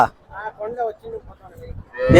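A cow moos nearby at a cattle market in a long, wavering low call, with a short burst of other noise at the end.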